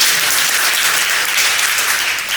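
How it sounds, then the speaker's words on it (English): An audience at a commemorative event breaks into a round of applause, a dense, steady wash of many hands clapping that fills the space throughout, with no voices standing out. "yes, please, another round of applause."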